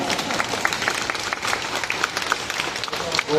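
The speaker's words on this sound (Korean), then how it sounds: "박수 한번 주세요" A lecture audience claps for a table tennis player and IOC member, a steady, moderately loud ovation of many hands with a few voices mixed in.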